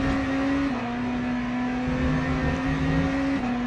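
A BMW hypercar engine in Le Mans Ultimate drones at steady high revs, a strong tonal whine that holds level and shifts pitch slightly a couple of times, alone and without talk.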